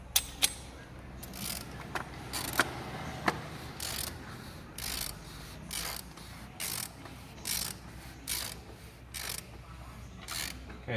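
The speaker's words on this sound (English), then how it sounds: "And using our 32 socket." Ratchet wrench with a 32mm socket working the oil filter housing on a 2.0 TDI Audi Q3, giving close, repeated ratcheting strokes in an even rhythm, each a short rasping burst, with a few sharp metallic clicks at the start.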